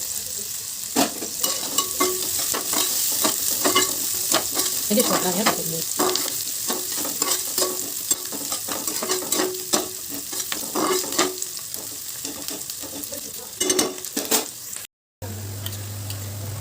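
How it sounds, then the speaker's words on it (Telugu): Chopped onions and slit green chilies frying in oil for an Andhra style fish curry, a continuous close sizzle broken by frequent spatula stirs and scrapes against the pan, with no talking. "అందులో మనం తరిగి పెట్టుకున్న ఉల్లిపాయలు మరియు పచ్చిమిర్చి చీలికలను వేసి బాగా ఫ్రై అవ్వాలి"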